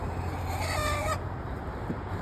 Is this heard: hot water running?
no